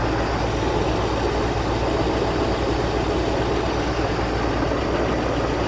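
A Ford F600 truck engine idles steadily at close range, a dense continuous low rumble with no variation in level and no voices over it.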